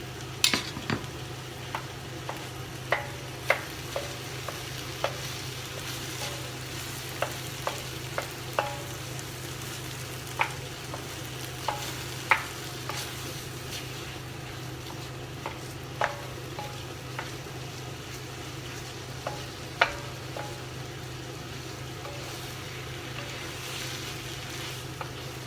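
Minced beef cooking in reduced tomato sauce in a pan, a low bubbling sizzle with a hum beneath and regular sharp clicks of a spoon stirring against the pot.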